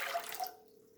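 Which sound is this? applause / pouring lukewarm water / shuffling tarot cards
pouring lukewarm water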